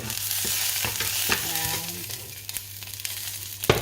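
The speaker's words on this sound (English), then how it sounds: "You can see all the sizzle." Oil sizzles steadily in a hot pan with curry leaves, a constant crackling hiss broken by scrapes and knocks of stirring.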